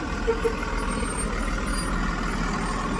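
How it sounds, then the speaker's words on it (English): A truck idles and rumbles outside, a steady low engine drone running unbroken through the whole stretch with faint higher hiss above it, fairly close and loud, with no clear talk over it. "because the truck was making a loud noise"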